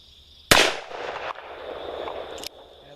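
One sharp, loud shot from a Ruger Blackhawk .357 Magnum revolver fired one-handed outdoors, close by, with a booming decay and a brief later thump, no talking.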